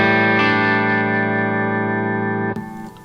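An electric guitar chord rings out through an amplifier with a rich, slightly chorused tone, sustaining evenly before being choked off near the end.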